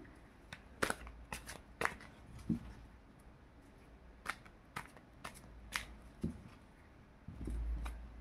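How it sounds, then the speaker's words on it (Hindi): Tarot cards are shuffled and drawn close by, heard as quick flicks and riffles in irregular bursts with soft sliding between them and no voices. "चलिए अब हम लोग कार्ड्स निकालते हैं।"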